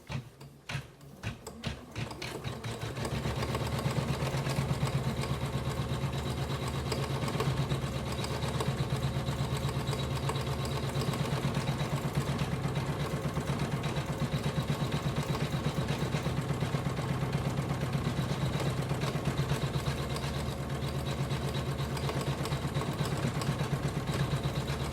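A ScanNCut embroidery machine stitches an appliqué letter W design, giving a steady, fast mechanical whir with a constant rhythmic needle clatter that runs loud and unbroken for the whole stretch after a brief uneven start.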